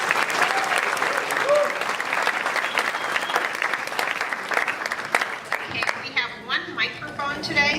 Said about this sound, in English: can we have a big round of applause for all of these?